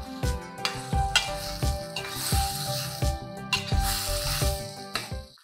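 Tomatoes and tamarind cooking down in a pan for a tomato pickle, a soft sizzle with wet squishing as a spoon stirs in repeated strokes, close and moderately loud with no voices.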